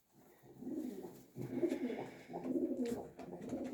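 Soft pigeon cooing repeats in low, throaty phrases, three rounds close together, fairly quiet with no talking.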